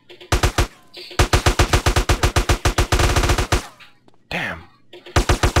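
Loud rhythmic bursts of automatic gunfire in GTA San Andreas, sharp regular shots in several rapid strings separated by brief pauses, with a quick whooshing effect near the end and no talk.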